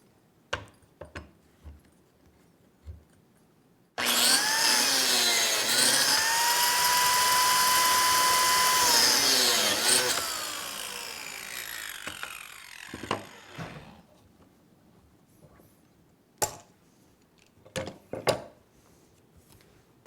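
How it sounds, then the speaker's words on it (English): A biscuit joiner spins up loudly and cuts a slot into a wooden table leg for leg-to-rail joinery, a sustained high whine lasting about six seconds that then winds down, with scattered knocks and handling clatter before and after. "biscuit joiners are a little louder than cordless drills"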